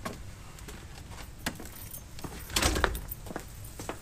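A bunch of keys jangles and clinks close by in several quick metallic bursts, with the loudest shake near the end, over a quiet room and with no voices.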